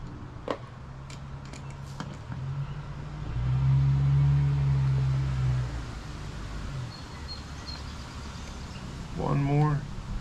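A mail carrier's car rolls past at a distance, its low engine rumble swelling and then fading over several seconds, with someone talking around it.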